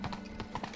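A short run of hoofbeats from a horse in The Witcher 3, a few close clip-clops in quick rhythm with no talking.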